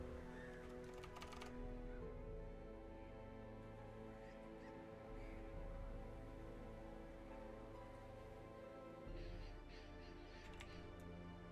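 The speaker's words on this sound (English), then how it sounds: "I really don't like how loud this keyboard is." Loud computer keyboard clacking in rapid, steady typing throughout, close and prominent over a dense game soundtrack and background hum, with no clear talk.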